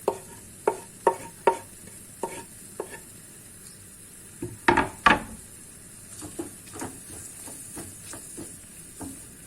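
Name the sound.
garlic sautéing in a pan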